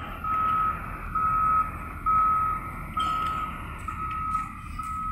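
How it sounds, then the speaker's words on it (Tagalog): A small truck, apparently a Mitsubishi L300, sounds a reversing alarm: five or six loud, evenly spaced beeps over a low engine rumble, with no talk. "Ito may padating pa ng isang ano, parang truck na maliit, parang L300 yata."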